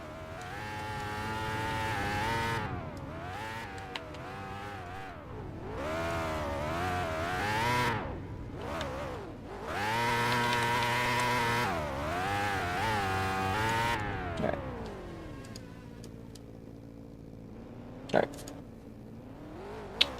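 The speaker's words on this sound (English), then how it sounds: "As Twin does a victory lap around the track, trying to do a drift." A Formula Micro race car takes a victory lap at Toledo Speedway, its small engine whining up and down in repeated passes of revving and easing off, heard at a distance under a commentator's talk.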